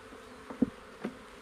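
Honey bees buzzing around hive boxes during a walk-away split, a close, soft hum with a few brief louder passes as individual bees fly near.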